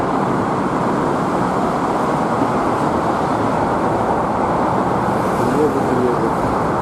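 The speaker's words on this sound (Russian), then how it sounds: "Ну, конечно, машин здесь очень много." Heavy Moscow road traffic roars in a dense, unbroken wash of passing cars at close range, steady and loud throughout.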